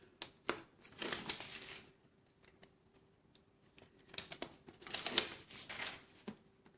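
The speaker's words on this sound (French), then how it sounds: "Là, j'enlève mes morceaux de scotch" Strips of carpet tape peeled off paper while making a scrapbook album cover, giving quiet crinkly tearing and rustling bursts in two clusters separated by a near-silent pause, close and fairly soft.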